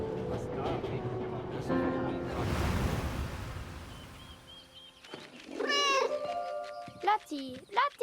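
Cat meows from a World War I video game set with a German soldier and his cat, several short mewing calls in the second half after a burst of surf-like noise and earlier music, with speech nearby.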